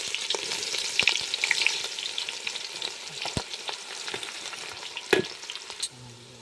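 Finely chopped onion sizzles in hot oil in a large pot for a homemade Diwali recipe, a steady crackling fry broken by a few sharp clinks of a stirring spoon.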